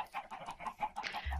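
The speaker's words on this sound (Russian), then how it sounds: "Там курица!" A chicken clucks in Minecraft, a quick run of repeated short clucks at moderate volume with no talk over it.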